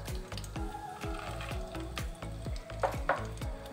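Coconut pieces, almonds and cashews roast on a low flame in a pan, with a rhythmic scrape of a spatula repeating steadily under a light sizzle and two sharper scrapes near the end.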